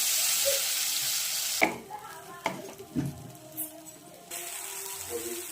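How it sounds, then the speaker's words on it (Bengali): Grated raw mango is fried in a pan with cardamom for a sweet pickle. A hiss is heard at first, then it gives way to sharp scraping and stirring knocks at an uneven pace. "আমগুলো দিয়ে আমগুলোকে ভালো করে ভেজে নেবো"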